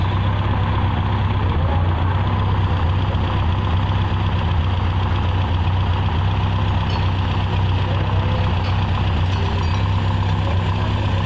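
A car engine idling loudly and steadily during a tune-up after ignition timing adjustment, with RPM raised; a continuous close rumble throughout.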